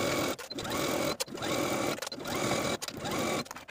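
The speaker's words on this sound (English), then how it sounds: "take it to your sewing machine and edge stitch close to this inner fold all the way across the bottom of your skirt" A sewing machine edge stitches along the inner fold of a skirt hem, running in a fast steady whir broken by brief pauses at a regular pace.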